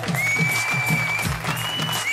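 Audience applause at a Tamil music show, steady clapping through the whole stretch with rhythmic thumps and a musical tone running beneath.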